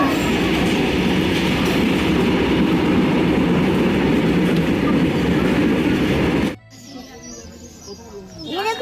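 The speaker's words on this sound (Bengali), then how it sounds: "বন্ধুরা আমাদের ট্রেন আসছে আমরা যাওয়ার জন্য" A train rumbles loudly close by with rhythmic wheel clatter, then cuts off abruptly, leaving quieter surroundings and a brief squeal at the end.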